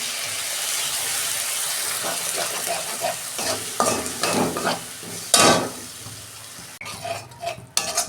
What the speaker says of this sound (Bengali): আমি টমেটো আর পেঁয়াজ বাটাটা দিয়ে দিচ্ছি।